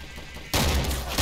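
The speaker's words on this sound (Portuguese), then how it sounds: "Eu ia dar um tiro na cara desse bot aqui" A single loud, close gunshot rings out in the zombie shooter Left 4 Dead 2, cracking in abruptly after half a second of low game ambience and leaving a sustained blast tail.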